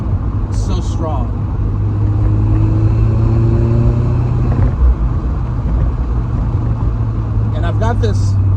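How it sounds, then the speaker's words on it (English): A Mazda RX-7 FC idles with a loud, deep exhaust burble, a steady low rumble running throughout while a person talks over it. "this car is really loud. Like, it's got a real deep burble to it"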